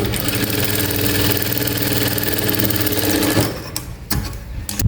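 A sewing machine runs steadily and close while stitching a double seam on a half-shoulder blouse, whirring for about three seconds before stopping, followed by a few sharp clicks and handling knocks.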